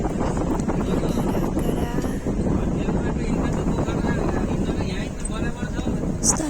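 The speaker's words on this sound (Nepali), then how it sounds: "हावा चलिरहेछ" Wind gusts buffet the microphone outdoors in the hills of Tarakhola, Nepal, a continuous loud rumbling roar with no pause, and a person's voice partly mixed into the blustery noise.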